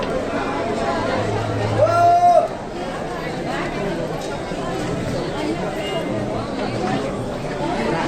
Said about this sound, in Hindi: और कितनी भीड़ हो रही है